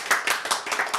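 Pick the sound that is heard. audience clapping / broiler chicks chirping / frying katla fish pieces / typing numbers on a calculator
audience clapping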